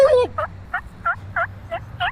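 Reed turkey call blown to imitate a gobbling turkey, a rapid series of about seven close, loud yelping notes in a steady rhythm.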